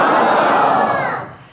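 A large crowd at a religious gathering shouts a slogan in unison, a loud, dense roar of many voices that swells briefly and then fades out.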